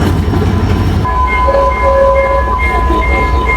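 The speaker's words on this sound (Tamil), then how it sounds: "நம்ம வந்த ட்ரெயினில் இன்ஜின் அங்கே போகுது" A locomotive on the Colombo to Batticaloa railway in Sri Lanka rumbles steadily along the rails, with a low continuous roar and thin, high metallic whines rising above it partway through.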